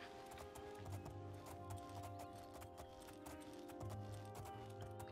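Galloping horse hooves in the Oblivion video game, a steady rhythmic clip-clop under a bed of game music, moderately loud and continuous.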